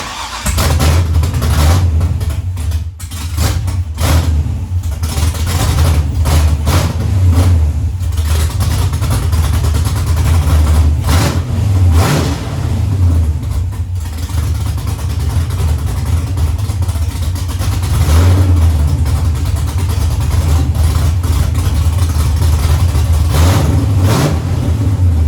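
A Drift V car engine cranks and fires for the first time, then idles roughly and revs repeatedly with loud, rising bursts, heard up close from outside the car for about twenty-five seconds.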